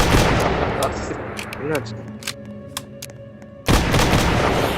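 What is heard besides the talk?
gunshots in Roblox video game Dead Rails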